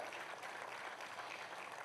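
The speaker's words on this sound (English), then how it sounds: "how about a huge round of applause for these amazing performers?" A crowd applauds performers after a recital at a public event, a short, even patter of many hands clapping at moderate distance.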